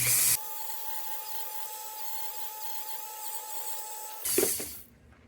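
A Dremel rotary tool polishes a part of a Justrite miner's carbide head lamp, a steady high whine with a faint grinding texture, then a brief louder rubbing burst as it stops.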